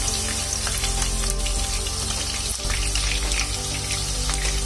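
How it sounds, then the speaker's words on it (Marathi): Green chillies fry in hot oil for a vegetable dum biryani, giving a loud, continuous sizzle and crackle with a few sharper pops. "मिरचीला खूप वेळ लागत नाही तळायला, पटकन होते."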